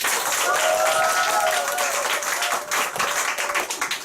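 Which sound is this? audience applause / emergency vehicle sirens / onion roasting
audience applause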